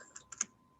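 A few quick, light keystrokes tap on a computer keyboard, three clicks close together, soft and near with no talking.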